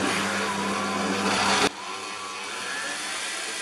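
Electric mixer whirring loudly through cookie dough for Christmas cookies, a steady motor drone that cuts off sharply partway through, leaving a quieter lingering hum.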